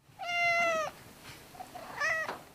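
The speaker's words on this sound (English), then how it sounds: "Feral cats, domestic cats and their descendants, are quite a nuisance in many parts of Texas." A feral cat in Texas gives two clear meows, a long drawn-out one followed by a shorter one after a brief pause, close and loud against a quiet background.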